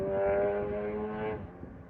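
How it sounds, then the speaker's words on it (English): Motorbikes travel the A68, the main road between England and Scotland, running past the Ridsdale Engine House; a droning, humming engine note is heard close by, then eases and fades as the bikes move away. "I have to excuse the noise of bikes because this is right next to the A68."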